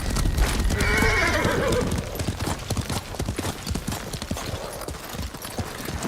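A horse in the video game Ghost of Tsushima gallops with rapid hoofbeats, letting out a loud neigh early on, then keeps clip-clopping steadily up close.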